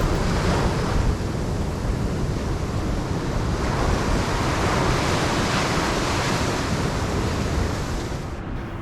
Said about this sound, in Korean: 파도 소리가 너무 좋아서 잠시 입을 닫고 있다.